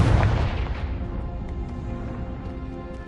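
Confringo blasting spell from the Hogwarts Legacy video game, a single heavy booming explosion up front that decays into a long, rumbling tail with scattered crackles, no talking.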